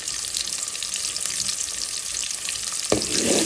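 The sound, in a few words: bay leaves frying in oil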